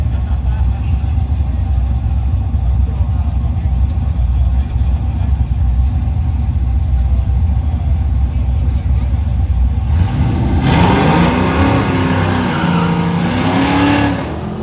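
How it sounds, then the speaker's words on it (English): At a Northern Michigan dragway, a 1957 Chevy 210 sedan and a Mustang II drag car idle loudly with a steady engine drone, then rev hard near the end with rising and falling engine tones, and talk underneath. "That'll bring up the 57 Chevy 210 sedan and the Mustang 2 next."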